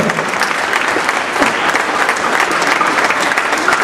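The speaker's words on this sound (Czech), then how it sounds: "ještě jednou váš potlesk nejúspěšnější sportovkyni a její trenérovi 2009" An audience at a youth sports awards ceremony claps steadily and loudly throughout, a dense, even wash of applause with little else beneath it.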